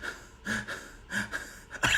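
A voice imitates hyperventilating, with rapid, heavy gasping breaths in uneven bursts, loud and close, ending in a sharp forceful exhale.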